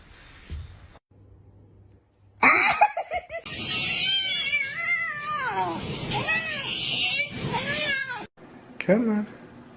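A pet cat meows in a series of loud, drawn-out, wavering calls at close range, with a few quieter sounds before it and people laughing underneath.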